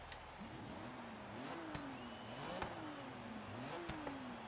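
A stock Honda NSX with a Rocket Bunny body kit in Forza Horizon 3 revs repeatedly, pitch climbing and dropping in several surges with sharp pops between, steady and close with no voices.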